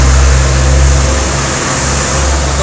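A motorcycle engine at a SKYGO Putiao branch shop hums with a loud, steady low drone, close by and continuous with no clear revving bursts.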